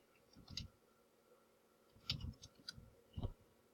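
Typing on a computer keyboard: a few sparse clusters of light, crisp key clicks separated by pauses, quiet and close, with no talking.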